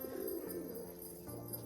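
Crested pigeon cooing, soft low throaty coos repeated in a gentle rolling rhythm, faint and close.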